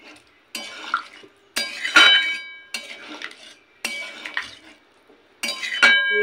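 A spoon stirs a pot of paneer and cauliflower curry in bursts, metal scraping and clinking against the pot with wet, gloopy mixing sounds, close by and fairly loud, with short pauses between strokes.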